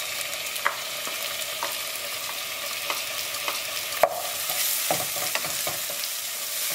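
Chopped tomatoes sautéing with golden onions in a pan for a Goan egg curry, a steady soft sizzle with occasional stirring scrapes and clicks, close and moderately quiet, no talking.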